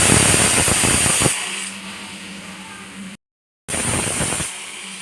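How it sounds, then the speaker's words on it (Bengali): A pressure cooker cooking paneer and chana on a gas stove lets off a steady, loud hiss of escaping steam. The hiss drops to a softer rush, cuts out briefly, then resumes before easing again. "এবার প্রেসার কুকারটা এঁটে আমি 3টে সিটি দিয়ে নেব।"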